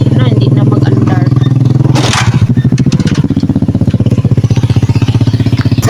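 A stalled motorcycle that had refused to start comes back to life: a heavy engine note is already running, then shifts at about two seconds into a loud, rhythmic, pulsing idle that carries on steadily to the end.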